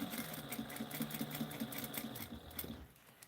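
A home sewing machine stitches in a late-night session, a fast, quiet, regular mechanical whir with a repeating needle tick that slows and stops near the end.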